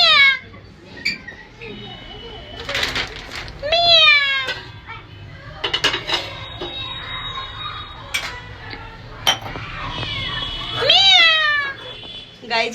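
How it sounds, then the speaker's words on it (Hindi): A cat meows repeatedly at close range, several rising, drawn-out cries spread across the stretch, with someone talking in Hindi and household noise in the background. "गाइस ये देखो बिल्कुल मेरे पीछे पीछे है बिल्ली"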